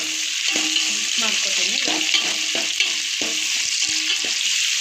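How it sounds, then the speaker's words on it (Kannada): Chopped onions frying in oil in a pan for chicken donne biryani, giving a loud, steady sizzle with rhythmic stirring scrapes throughout and a brief spoken word over it. "ಉಳ್ಳಾಗಡ್ಡಿ ಇದು ಸ್ವಲ್ಪ ಬ್ರೌನ್ ಕಲರ್ ಬರಬೇಕು, ಅಲ್ಲಿವರೆಗೂ ಫ್ರೈ ಮಾಡ್ಕೊಳ್ಳೋಣ"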